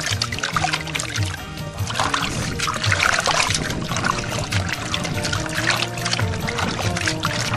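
Water poured steadily into an organic fish-farming feed mix for milkfish, a continuous splashing pour with trickling throughout and low background clatter, no talk.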